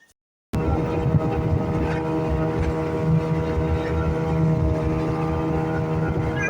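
Boat engine running steadily on the crossing to Maheshkhali, a continuous loud motor drone with harmonic hum that starts abruptly and holds constant throughout.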